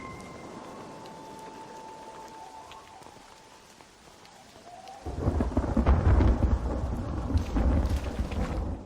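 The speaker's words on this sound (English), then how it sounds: "I apologize for the rain. It started to happen in the game." Rain pours steadily in the Red Dead Redemption video game, then at about five seconds a deep rolling thunderclap swells in and the downpour grows heavier and louder through the rest.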